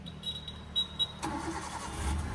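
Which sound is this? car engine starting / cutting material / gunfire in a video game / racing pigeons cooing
car engine starting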